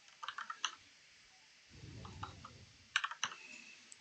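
Close computer keyboard typing comes in short bursts of quick key clicks with pauses between, plus a brief low rumble midway through.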